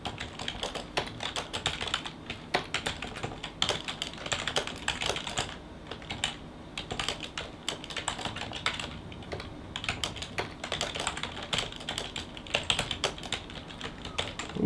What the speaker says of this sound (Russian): вы заметили, что на клавиатуру я не смотрю. И печатаю